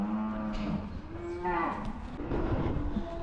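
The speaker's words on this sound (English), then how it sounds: "Can you hear the cows roaring?" Several penned cattle moo and bellow loudly and insistently, overlapping long low calls rising and falling close by, desperate to be let out to grass.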